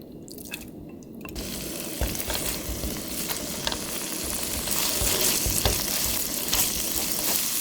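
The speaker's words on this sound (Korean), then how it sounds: "팬에다가 식용유를 살짝 두르고요. 열한 다음에 양념해 놓은 고기를 먼저 볶을 거예요." Seasoned meat stir-frying in a lightly oiled hot pan, a steady loud sizzle with crackling bursts and occasional scraping as it is moved around, continuous throughout.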